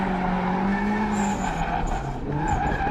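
Loud, continuous tire squeal from a drifting car with a roaring engine underneath, sustained throughout without pause.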